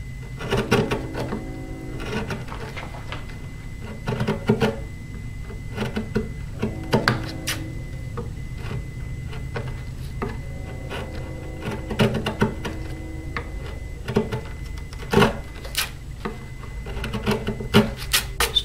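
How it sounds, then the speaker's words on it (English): Sandpaper wrapped around a small block rubs along the edges of a Washburn acoustic guitar under repair, producing close, repeated rasping strokes in an irregular rhythm. "small little block with some paper on it, sandpaper, and just sand in between the edges here"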